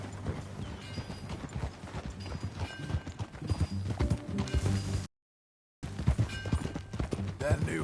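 Horse hooves clip-clop steadily in Red Dead Redemption 2, a ridden horse moving at a walk under game music and ambient sound, with a brief dropout partway through and voices speaking at times.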